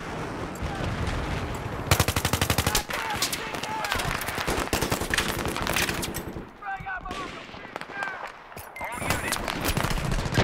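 Battlefield 3 gunfire rattles in dense machine-gun bursts and scattered shots, loud and close, with several players talking over the shooting.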